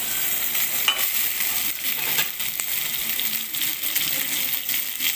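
Drumstick curry being stirred in a pan, a steady broad sizzle with scraping and a few light clinks from the spoon, close and fairly loud throughout with no talk.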